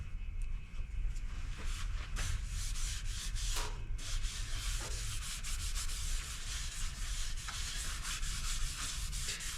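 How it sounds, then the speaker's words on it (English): Sanding a turned maple bowl on a lathe with extra fine sanding paste, roughly 1200 grit: a steady, close, continuous rubbing hiss over a low motor hum, with no talk. "sand that down, smooth that out so we can get a really nice finish on this bowl"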